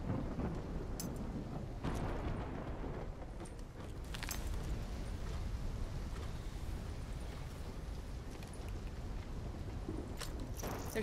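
Thunderstorm in the video game Black Ops 3: steady heavy rain hissing throughout, broken by several sharp cracks and rumbles of thunder, with no voices.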